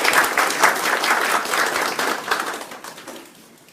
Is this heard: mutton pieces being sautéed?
no